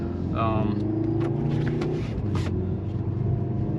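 Turbocharged inline-four engine of a 2023 Mercedes-AMG C 43 sedan with a nine-speed automatic, heard as a steady, close low drone that holds throughout, with faint higher noises above it.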